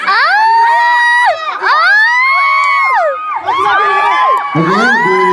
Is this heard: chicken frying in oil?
no